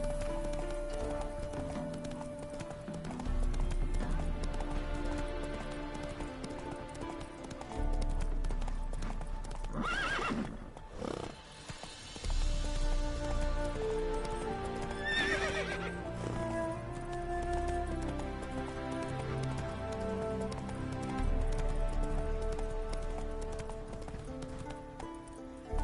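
Horse hooves clip-clop at a gallop in The Witcher 3 video game, with whinnies and snorts over game music and brief faint voices, steady and close for most of the run.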